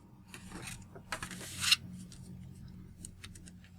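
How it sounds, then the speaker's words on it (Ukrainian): A paper sheet is unfolded and flipped over during origami heart folding, soft crinkling and rustling with a brief louder crackle, close and quiet. "Розвернемо листок і перевернемо на іншу сторону."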